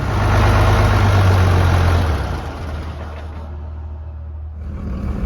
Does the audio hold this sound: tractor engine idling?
yes